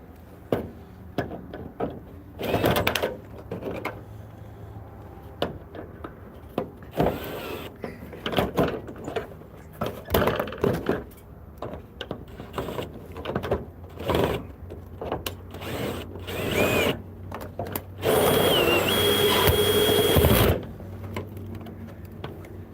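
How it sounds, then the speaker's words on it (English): A bigger hex screw is driven into a roof gutter with a power driver, heard as intermittent bursts of whirring motor among clunks and handling knocks, ending in a longer high-pitched driving run near the close; no talking. "So we're going to put this up back where it belongs with bigger screw."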